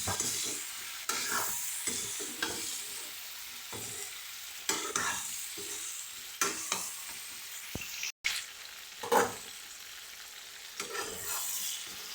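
Close sizzling of meat frying in a pan with tomatoes, with repeated scraping and stirring strokes throughout, no talking.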